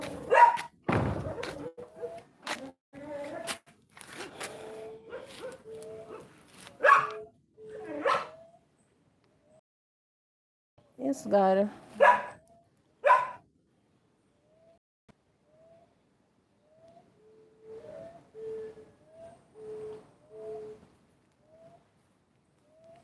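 A dog barks and whimpers in short bursts, loud and close at first, then sparser and fainter, with thuds and a voice speaking briefly among the barks.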